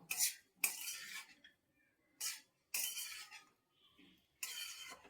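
Bengali-style poha with peanuts is mixed cold in a bowl with a metal spoon, heard as close, bright bursts of scraping and clinking separated by short quiet gaps.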